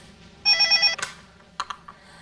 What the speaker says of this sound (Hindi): कितने जल्दी फोन कर लिया